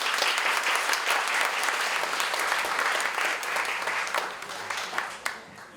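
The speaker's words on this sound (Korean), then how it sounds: "다시 한번 큰 박수 부탁드립니다" An audience at a developer meetup presentation applauds in a dense burst of clapping from many hands, strong at first and then slowly thinning out, with a faint voice in the background.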